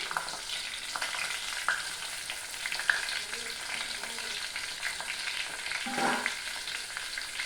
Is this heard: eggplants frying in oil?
yes